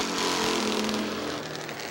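Factory stock race cars roar past at Hartford Speedway, a dense loud engine drone that swells as the cars pass and then eases slightly, with no voices.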